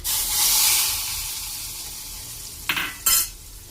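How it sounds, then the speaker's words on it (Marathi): Mustard seeds and curry leaves hit hot oil for a tempering: a soft hiss fades, then two sharp, loud crackling sizzle bursts flare up close in quick succession. "आता टाकते थोडीशी मोहरी, थोडेसे कढीपत्ते, चला तर तडकायचे टाकून घेते"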